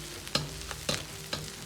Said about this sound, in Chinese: 然后放入葱蒜，煸炒出香味。